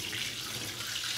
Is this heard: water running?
yes